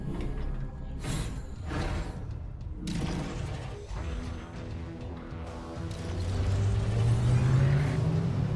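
A vehicle bike's engine in Metroid Prime 4 revs up, a mechanical rumble with clanks early on, then a rising whine climbing steadily in pitch and loudness toward the end.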